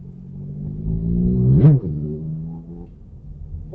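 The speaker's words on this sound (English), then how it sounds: "What was the rev bomb for?" A nearby car's engine revving hard in a single rising rev bomb that peaks and drops away, heard from inside a vehicle over a low engine rumble.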